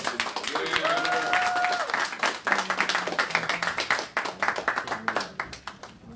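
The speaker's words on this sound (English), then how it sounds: "give this group another round of applause" Applause for a graduating group at a speakers academy graduation ceremony, starting as a dense wash of clapping, then thinning into distinct individual claps, with brief voices and a whistle-like tone early on.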